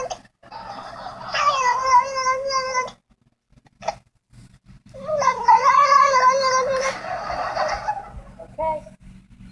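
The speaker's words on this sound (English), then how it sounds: "Oh, the grumpy kitty." A cat gives two long, loud, drawn-out meows close by, the first followed by a short pause and the second ending in a brief squeak, over a quiet room.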